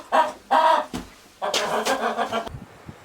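Chickens cluck nearby on a farmhouse property in several short, loud bursts, followed by a longer stretch of mixed clucking that trails off.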